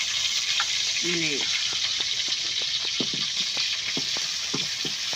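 Fish frying in a village kitchen as a mother-in-law cooks, a constant loud oil sizzle with occasional clinks and stirring scrapes, while someone talks over it.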